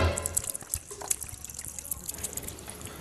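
Water poured from a plastic bottle indoors, splashing and trickling in an uneven stream that runs the whole time, close and fairly clear, with light background noise.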